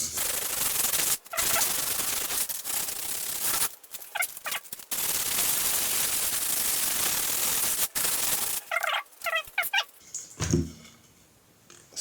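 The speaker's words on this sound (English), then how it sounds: "wrap a finger with a sandpaper and just" Sandpaper wrapped on a finger rubs along the edges of a Solar headless guitar in long, close, steady rasping strokes, broken by short pauses and a few light knocks.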